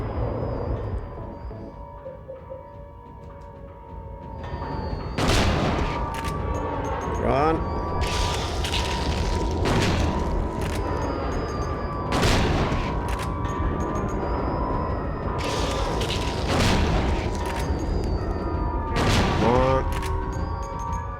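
Shotgun blasts ring out in the PS2 video game Silent Hill 2. Roughly seven loud, booming shots are spaced a couple of seconds apart over continuous dense game ambience.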